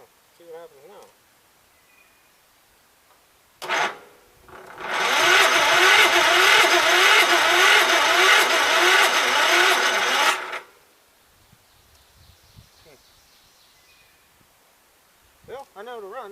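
A 1984 Gravely 5665 tractor engine starts after a short crank and runs loud and steady for about six seconds before cutting out, with brief clunks before and after.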